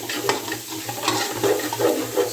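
Carrots and capsicum are stir-fried in a pan, a continuous sizzle with soft scraping strokes of stirring, close and steady with no voices.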